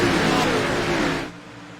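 Race cars at the Daytona 250 roar past at full throttle after the green flag, a loud, dense engine blare that drops away sharply as they pass.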